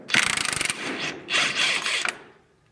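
A ratchet drives a replacement bolt into a new ball joint on an old Plymouth Barracuda, loud rapid clicking for about half a second, then two longer ratcheting bursts that fade out.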